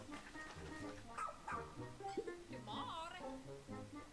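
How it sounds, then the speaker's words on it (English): A cartoonish dog in a Pikmin 4 video game trailer gives short yips and whimpering barks, with bright chirpy tones over soft background music, all fairly quiet. "They give you a doggy? A doggy, Nintendo?"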